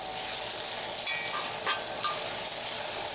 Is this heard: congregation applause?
no